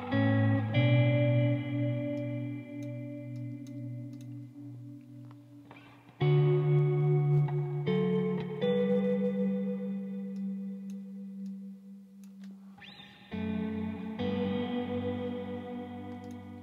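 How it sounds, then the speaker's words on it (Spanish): Guitar played through a Valeton GP-200 multi-effects pedalboard with reverb turned up: sustained chords ring out one after another and decay into a wide, washing tail, with three or four restrikes at close, loud level and no talking. "Puede ser que suene más reverb."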